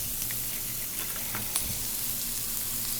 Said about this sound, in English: I put a little bit of lard in this just to cook the vegetables down